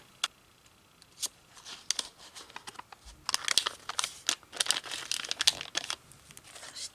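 Tracing paper envelope sealed with masking tape being folded and handled up close, with sparse crinkles at first and then a busier run of crisp rustling and crumpling.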